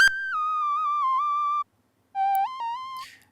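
Serum software synth lead with a bandpass EQ and rolled-off highs, a thin, pure whistling tone sliding and bending between notes in two short phrases separated by a pause, clean and alone.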